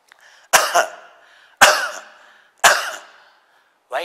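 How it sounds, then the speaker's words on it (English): Three loud, harsh coughs about a second apart, close to the listener, followed by the start of a fourth. "So after 6 breaths, it is better to even cough."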